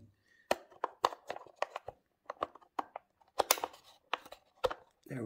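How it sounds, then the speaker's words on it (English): Batteries being fitted into the battery compartment of a handmade diorama's light, heard as a run of sharp, close plastic clicks and snaps with brief rustling, irregularly spaced with short pauses and no talking. "I have to put the batteries in."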